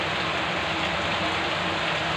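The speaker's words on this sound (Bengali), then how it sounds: "ঝিমঝিম বৃষ্টির মধ্যে রান্না হচ্ছে। এদিকে রাস্তায় গাড়ি ঘোড়া চলছে, ঝমঝম বৃষ্টি।" Heavy rain falling during cooking with traffic on a nearby road, a dense steady hiss of downpour, loud and unbroken.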